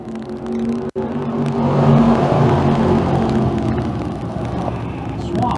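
A field of dirt-track sportsman race cars roars off at the green-light start of a heat race, a dense, rising engine rumble with a voice talking over it.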